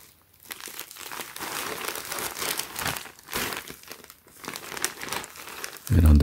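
A plastic bag holding a heather gray hoodie is crinkled and handled up close, giving continuous loud crackling and rustling in uneven bursts.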